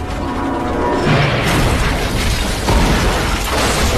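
A plane whose wing has been hit by gunfire slams into the ground in an action film, with a loud, dense burst of crashing, smashing debris and rumbling impact noise.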